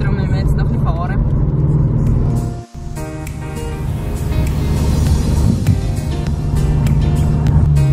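A car driving near Lake Lucerne, its engine and road noise forming a steady, loud rumble from inside the cabin, with one brief dip partway through and talk in German over it.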